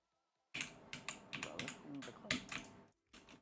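Someone types on a computer keyboard plugged into a Nintendo Switch while playing Rocket League. Quick, close clicks come in short bursts after a moment of silence, with a brief pause near the end.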